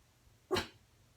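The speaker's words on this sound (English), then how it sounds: "my dog's barking at something out the window" A dog barks once at something outside the window indoors: a single short, fairly faint bark against a quiet room background.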